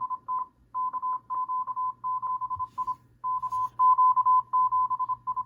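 A Yaesu FT-991A transceiver receives station KQ7I sending Morse code while its IF bandwidth is adjusted: a clean, steady beeping tone in rapid dits and dahs over a faint low hum.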